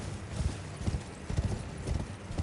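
A horse's hooves clip-clop in the Dark Souls video game, a steady rhythmic run of low, dull thuds at a trotting pace. They are close and fairly loud over a dense, noisy game soundscape.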